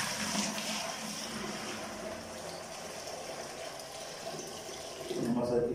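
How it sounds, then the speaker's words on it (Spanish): Water pours steadily into an empty bucket while mixing wall stucco, a continuous broad splashing rush that swells louder near the end. "Vamos a vaciar el agua al bote vacío."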